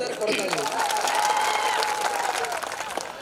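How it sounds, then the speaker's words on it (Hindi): Applause rises from an audience at a live Odia comedy show, a steady wash of clapping held throughout, with a voice and tonal sounds running over it. "ଗୋଟେ जोरदार करताली हो"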